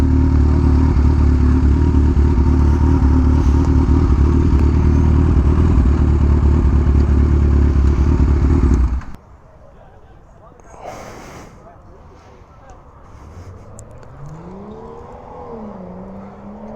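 Motorcycles at a Ducati meet, a loud steady engine rumble close by for about nine seconds, then cutting off to quieter outdoor ambience with a distant engine rising and falling in pitch.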